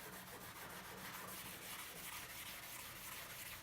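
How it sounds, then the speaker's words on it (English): A Brillo pad scrubs the enamel lid of an AGA cooker in a steady, continuous abrasive rub, close and fairly quiet, with no talking. "So I'm going to give it just another bit of a rub"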